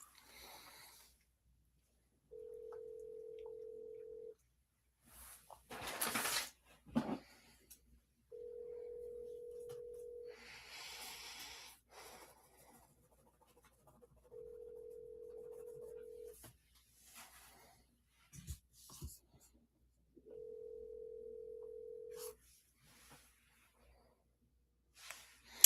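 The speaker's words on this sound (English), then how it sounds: "It's just ringing." An outgoing phone call rings out with four evenly spaced two-second ringback tones separated by long gaps, while faint breaths and small handling noises sit in between.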